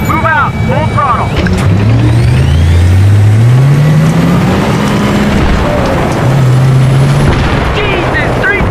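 A tank in the video game Battlefield 3 pulls away at full throttle with a loud, steady engine roar and rising whine, gunfire and explosions mixed in, while radio voices talk over it.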